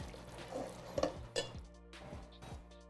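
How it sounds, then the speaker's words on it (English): Spoon stirring hazelnut toffee in a metal pan, with scraping clinks and knocks against the sides, a few sharper taps standing out over a low sizzle, close and moderately quiet. "stir it."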